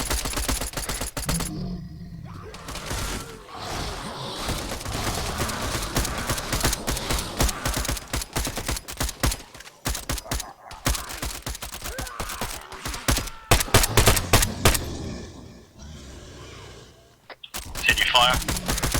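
Sustained gunfire in the military video game Arma 3: dense, rapid volleys and overlapping bursts crackle almost continuously, briefly dropping away a few times before resuming loudly, with voices talking over the shooting.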